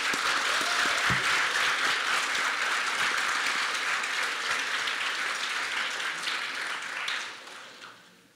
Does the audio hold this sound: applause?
yes